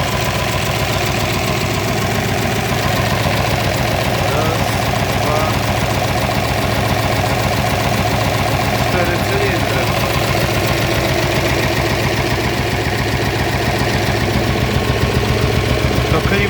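A Massey Ferguson 3080 tractor engine idles steadily, a dense mid-to-low rumble with faint knocking texture that holds constant and fairly loud throughout.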